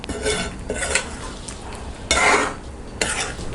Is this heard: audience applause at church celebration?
no